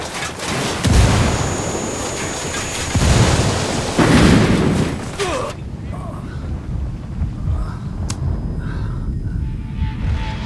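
A grenade blast in Ghost Recon Wildlands co-op play, a loud boom amid gunfire and wind noise, with players talking throughout.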